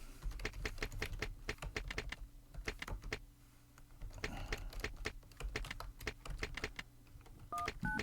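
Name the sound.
typing numbers on a computer keyboard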